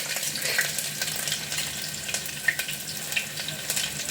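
Ginger and chillies dropped into hot oil with sputtering mustard seeds and a clove, giving a steady, close crackling sizzle with brief sharper pops throughout.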